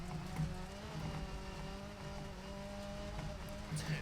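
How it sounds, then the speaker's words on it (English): A damaged Group B rally car engine revs hard in the EA WRC video game during a Safari Rally stage, a strained, steady drone with harmonics rising and falling, tyre noise and brief squeals. "it's starting to sound just a little bit more painful, this car"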